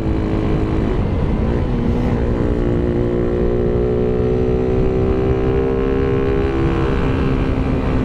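A Raider 150 Gen1 motorcycle engine fitted with a 51 mm big elbow exhaust and a New Breed canister rumbles loud and close at a steady idle, its tone gently rising as it revs slightly.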